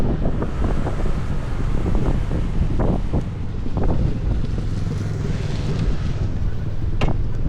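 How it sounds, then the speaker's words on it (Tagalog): Strong ocean waves surging and crashing, heard as a broad, continuous roar with rolling swells, heavily buffeted by wind noise on the microphone. "Grabe ang lakas ng alon no."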